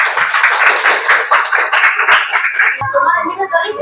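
A classroom of students claps loudly for a student group, dense rapid applause for a few seconds that tapers off as voices and shuffling take over at the end.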